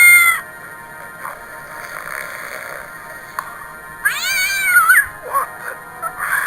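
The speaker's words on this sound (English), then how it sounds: "Who let that blasted cat in here?" A cat meows in the Hidden Mysteries Titanic video game, with several drawn-out, wavering cries rising and falling over a faint game background, the loudest call coming near the end.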